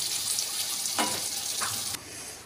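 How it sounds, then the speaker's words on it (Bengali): Pointed gourd (potol) frying in a home kitchen pan, a steady hiss of sizzling oil with a couple of brief bursts of stirring or splashing, fairly close, with no talking. "এখানে হচ্ছে পটল ভাজা।"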